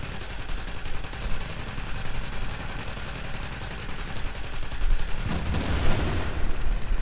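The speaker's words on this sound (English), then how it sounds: "use a light machine gun and keep her suppressed" Video game light machine gun fire runs as a dense, continuous rattle of rapid shots, loud and close, with a heavier burst of impacts near the end and no voices over it.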